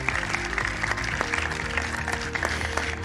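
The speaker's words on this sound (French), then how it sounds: "Je pense qu'on peut tous collectivement s'applaudir pour ce soir." Lecture audience applauding at the close of an evening talk on cancer mechanisms, continuous even clapping from many hands with scattered sharper claps over a low room murmur.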